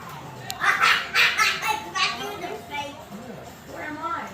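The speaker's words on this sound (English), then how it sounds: "There, it's a dog." A puppy's yips and whimpers come through close by, joined by a voice and excited talk, with the short high barks mixed in for the length of the clip.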